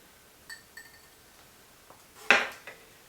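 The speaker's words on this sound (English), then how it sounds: "I will go ahead and give this one last stir." Utensil stirring icing glaze in a bowl while making pear scones: a few soft clinks, then one brighter scrape and clink against the bowl, close and quiet, with no talk.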